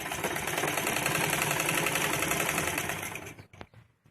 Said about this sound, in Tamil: இது மாதிரி லேஸ் வச்சு நம்ம ஸ்டிச் பண்றோம்